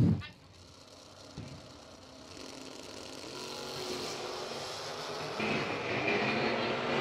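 At a bracket drag race, a 1927 Ford Roadster and a 1972 Vega creep into the staging beams, engines rumbling and building to a louder, sustained roar that swells toward the end.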